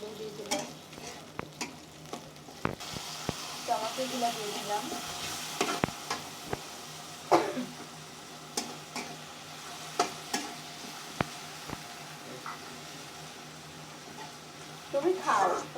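Onions frying in a pan at the start of making noodles, a steady sizzle with scattered spoon scrapes and clicks, while people talk nearby.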